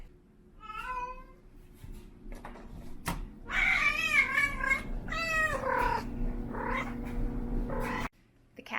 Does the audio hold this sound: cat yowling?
yes